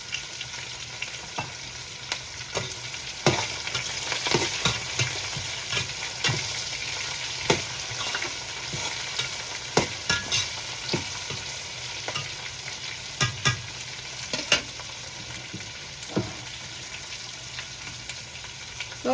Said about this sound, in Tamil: வெங்காயம் வந்து அரை வதங்கள் நண்டு கரைக்கு வதங்கினா போதும்